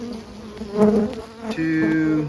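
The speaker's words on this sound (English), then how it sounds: "we do have a cluster of bees" A steady insect-like buzzing hum of honey bees clustered in a Langstroth hive in February, fairly close, with a short spoken word over it partway through.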